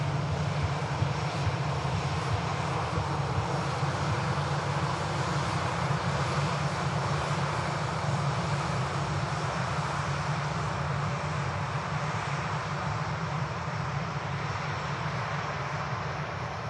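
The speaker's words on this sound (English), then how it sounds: "KLM A321 Neo with the white nose." A KLM Airbus A321neo's jet engines roar steadily at Manchester Airport, a broad continuous rumble and hiss that stays loud and even throughout, with no talking.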